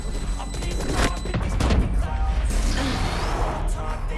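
Spike bomb going off in a Valorant competitive match: a loud sustained crackling blast that rolls and crashes for several seconds, dense and close.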